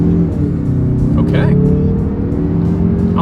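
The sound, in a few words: Mazda 3 hatchback turbocharged engine accelerating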